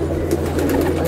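Andhra pigeons coo softly in a loft, a low steady murmur of several birds close by, continuous over about a second.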